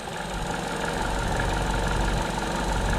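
An Opel Corsa D with the 1.4 engine idles roughly with its valve cover opened, giving a steady, close, uneven mechanical hum and throb without a break.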